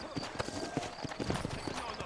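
Horse hooves clip-clop in a quick, steady rhythm through a town in the video game Red Dead Redemption, with a character speaking over the footfalls.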